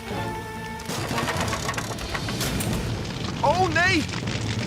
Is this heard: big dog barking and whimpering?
no